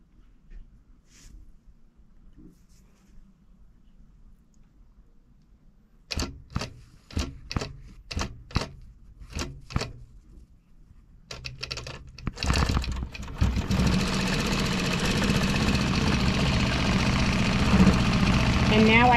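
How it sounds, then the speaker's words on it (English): A computerized sewing machine on a quilting setup stitches point-to-point block rows through fabric, starting with a quick series of distinct clicks and then running into a loud, steady whirring hum that holds to the end. "I know it's going to stitch down this way by the holes in my fabric."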